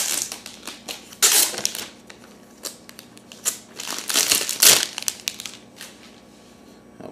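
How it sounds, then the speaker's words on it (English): Clear plastic film peeled and crinkled off a new Apple TV during unboxing, close and loud, coming in irregular crackling bursts with sharp crinkles and rustles. "after I get this plastic taken off of here."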